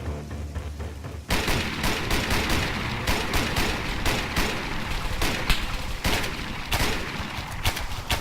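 Gunfire erupts during a Zeus operation in the military game Arma: after a brief quieter lead-in, a dense, loud fusillade of rapid shots and bursts runs continuously to the end, with no talking.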